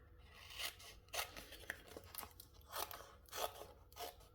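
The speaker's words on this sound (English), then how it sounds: "I'm just going to trim a piece off" Faint, close scissors snip and crunch through a rub-on transfer sheet in a run of short, irregular cuts, with no talk.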